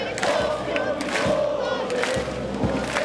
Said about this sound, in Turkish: Aynı anda hüznü ve sevinci paylaşan binlerce taraftar bandoya ses eşliğinde tezahüratlar etti.